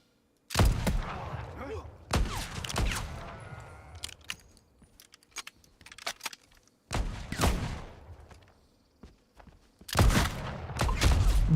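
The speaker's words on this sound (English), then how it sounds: "I'm gonna shoot this guy" Gunshots in the video game Legend of California: several loud, sharp blasts in uneven bursts, each trailing off into a short echo, separated by quieter gaps.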